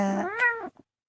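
A single drawn-out cat meow, close and fairly loud, rising then falling over about two-thirds of a second, followed by a brief soft chirp and silence.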